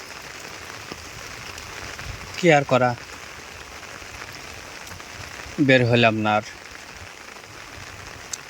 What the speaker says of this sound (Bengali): উঠিয়া দেখি মাশাল্লাহ আল্লাহ রহমতের বৃষ্টি পড়তেছে